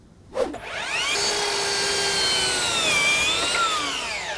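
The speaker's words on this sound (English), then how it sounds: "I'll start by cutting my boundary joist to length." A power saw bites into a length of timber for a boundary joist of a kids' playhouse, starting with a sharp knock and then whining in a loud, sustained cut that shifts slightly in pitch near the end.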